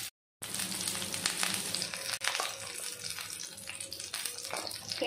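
Ghee sizzles in a hot pan on a carrot uthappam, giving a close, steady crackling hiss that continues after a brief silence at the start, with occasional louder pops.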